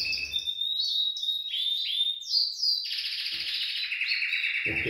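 Canary singing in an aviary: a continuous, close, bright song of rapid trills, rolling phrases and rising whistled notes that changes texture several times and is heard alone.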